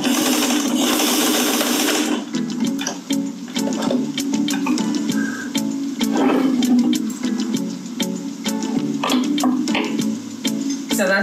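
A sewing machine sews off and backstitches a bag seam to secure it, its motor whirring loudly at first, then running in a steady rattling hum punctuated by rapid needle clicks and short pauses.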